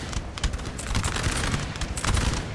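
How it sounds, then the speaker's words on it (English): Musket volley fire from the Napoleon: Total War video game, at a historical 1808 Battle of Espinosa de los Monteros, rolls out as a dense, loud crackling fusillade of overlapping shots for a couple of seconds. "Blast away, boys. Blast away. Nice volley. Really nice volley."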